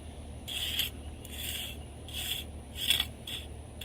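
A tool scrapes across wet concrete in a stone pathway mold, smoothing the top with about five faint rhythmic rasping strokes.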